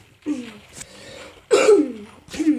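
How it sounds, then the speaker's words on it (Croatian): A person coughs three times in short, rough, separate bursts, close and moderately loud, during a Minecraft gameplay session. "Izvinite što kašljam."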